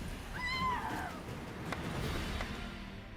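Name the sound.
cat meowing in video game Witcher 3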